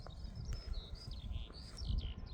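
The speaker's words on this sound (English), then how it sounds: "Birds are playing." Small birds chirp and tweet outdoors on a calm, sunny day after a storm, with several short, bright calls scattered over a low rumble of wind, at a moderate distance with no talking.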